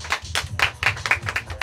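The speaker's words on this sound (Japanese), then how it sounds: "後攻三日月が良かったと思う人拍手お願いします" Sparse, uneven handclaps from a small audience at a beatbox battle in Gunma, a dozen or so sharp claps in quick succession over a low background hum, with no talking.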